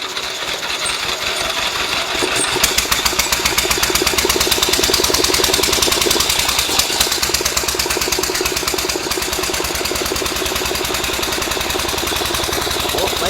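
A 1912 Harley-Davidson single-cylinder motorcycle engine fires up and runs with a rapid, even train of sharp close exhaust beats, loud and steady against a mechanical background.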